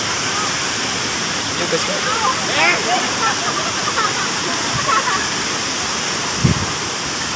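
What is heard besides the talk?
waterfall at Curug Muara Jaya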